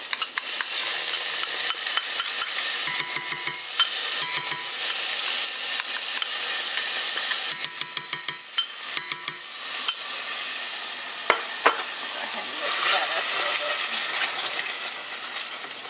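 Sour cream melting in a hot pan while being stirred, a steady close sizzle and frying hiss with scraping spoon strokes and light clinks throughout, with a voice talking faintly at times.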